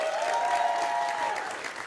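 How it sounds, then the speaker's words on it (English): An audience at a FIFA 17 Ultimate Team Championship Series regional final in Paris applauds steadily, a dense wash of clapping heard throughout with some crowd noise mixed in. "let's give him a big round of applause."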